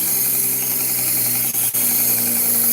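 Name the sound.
belt sander sharpening a knife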